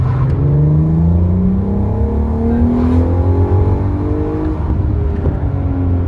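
A VW Golf 5 R32 engine revs and accelerates hard in automatic mode, loud and close from inside the car, pitch climbing steadily through the gears with a continuous roar.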